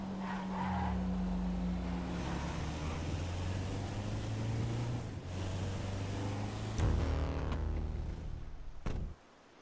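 A car in GTA V passes by with a loud engine roar and tonal drone that swells and shifts, then cuts off abruptly near the end, with game ambience throughout.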